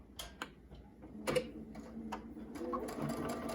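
A sewing machine stitches fabric for a face mask, producing soft, irregular ticking and clattering stitches at low volume, with no talk over it.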